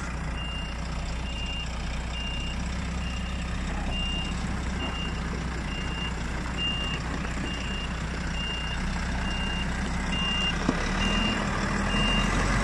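A lorry reversing: an evenly spaced series of reversing beeps over the steady low rumble of an idling diesel engine, continuing throughout without speech.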